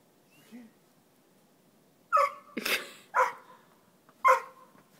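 A dog barks while burrowing in snow, giving four sharp, close barks in the second half after a faint yip near the start, with breathing and snow rustling between them.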